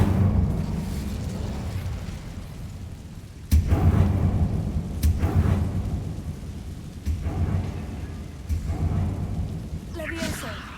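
A fire spell in Hogwarts Legacy bursts out as a sudden loud whoosh and rumble, followed by several more booming impacts and crackling blasts over a low game backdrop, with a voice calling out a spell.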